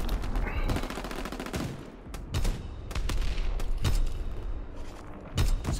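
Anti-aircraft guns in Call of Duty WWII pound at enemy aircraft in loud, rapid bursts of heavy booming shots, separated by short gaps and overlapping with distant blasts.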